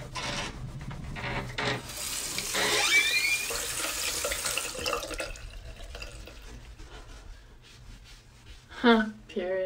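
Tap water runs into a bathroom sink while someone scrubs skin, a steady rushing splash with rubbing and small drips, close by, with brief voices at the end.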